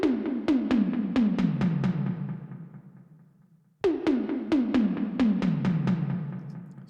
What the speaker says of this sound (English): They're called Linn toms, and I am triggering them from a Kontakt library, vintage drums. It's just called LinnDrum Kit